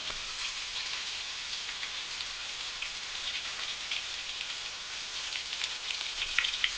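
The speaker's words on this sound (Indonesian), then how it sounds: "Tumis hingga harum ya, hingga matang" Galangal frying in a pan while cooking lamb garang asem, giving a steady, even, soft hiss of sizzling oil that continues throughout without a break.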